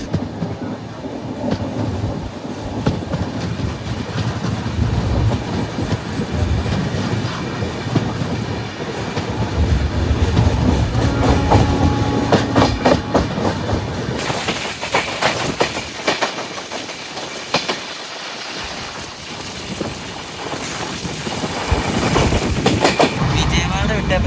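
Gorakhpur–Kochuveli Raptisagar Express rolling into an Indian railway station, heard from aboard another train: steady rumble and clickety-clack of wheels over rail joints, continuous and fairly loud, with a brighter wheel hiss building in the second half.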